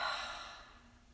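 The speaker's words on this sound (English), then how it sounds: "then open the mouth and exhale and let it all out" Long, soft exhale through an open mouth during a guided stretching session, a breathy airy rush that fades out over about a second, close and quiet.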